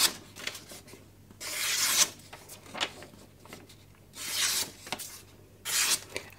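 Freshly sharpened Suehiro Debado knife, straight off a 4000 grit stone, slicing through paper in a cut test: four close, bright scratchy hissing strokes separated by short pauses and quieter rustling, with no voice.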